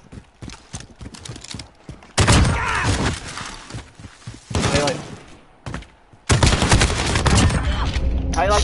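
Shotgun fire in a Modern Warfare search and destroy match, loud booming blasts in several bursts separated by quieter gaps, with players talking between and over the shots.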